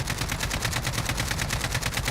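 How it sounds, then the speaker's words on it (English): Uninterrupted automatic AK-47 fire in Modern Warfare, sprayed without recoil control: a loud, rapid stream of evenly spaced shots held for about two seconds with no pauses and no voice over it. "I'm gonna go ahead and shoot without the recoil control method"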